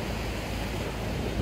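Restless sea waves washing onto the shore, a continuous broad roar of surf with wind noise buffeting the microphone, steady and close.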